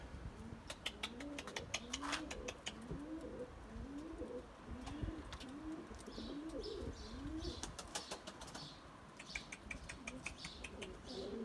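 Pigeons coo repeatedly in low, rolling phrases close by, with sharp clicks and faint chirps scattered over the steady murmur.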